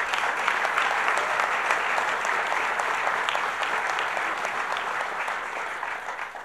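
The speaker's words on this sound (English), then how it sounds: "I'd like to give him a round of applause." Sustained applause from an audience at a governor's announcement event, a dense steady clatter of many hands that holds for several seconds and slowly thins toward the end, with no talking over it.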